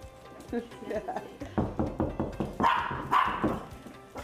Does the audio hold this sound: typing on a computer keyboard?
no